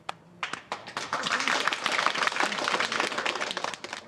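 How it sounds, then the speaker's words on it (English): A burst of applause builds quickly from a few scattered claps into steady clapping from a small group, close and moderately loud. "Round of applause for me."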